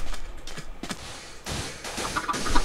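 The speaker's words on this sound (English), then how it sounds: "Oh, there's the chicken." A Minecraft chicken gives short, soft clucks spread across the clip, with faint scattered game noises around them and no talking.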